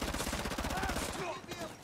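Rapid automatic AK rifle fire in Call of Duty Modern Warfare Remastered, a steady stream of close, loud shots for most of the burst before tapering off, with faint other game sounds underneath.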